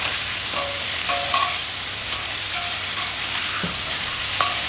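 Chicken pieces frying in hot oil in a pan, partly cooked for a homestyle chicken tel jhal, give a steady, close sizzle with faint stirring scrapes throughout.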